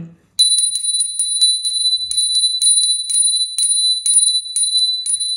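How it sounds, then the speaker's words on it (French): A small bell rings repeatedly in a steady, bright series of clear metallic tings, close and fairly loud, with no voices. "on va faire tinter la petite cloche"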